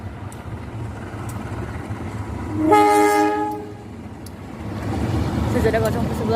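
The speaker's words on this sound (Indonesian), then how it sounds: "kita tunggu kereta bara Kertapati deh guys" A coal train bound for Kertapati, hauled by a CC204 locomotive, sounds a loud sustained horn blast of about a second and a half amid steady rumbling and wheel noise near Kramasan station.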